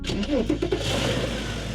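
An air-cooled Porsche RWB build starts up: a brief burst of cranking gives way to a close, steady engine rumble that carries on to the end.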